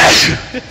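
A single sharp, loud sneeze bursts out close up and fades within a fraction of a second.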